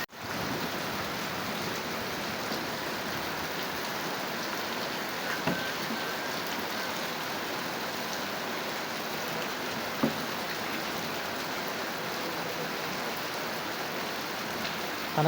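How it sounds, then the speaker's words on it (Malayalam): Heavy rain pours outside in an even, continuous hiss that stays steady from start to finish, with a couple of faint knocks nearby. "പുറത്ത് നല്ല മഴ കേട്ടോ."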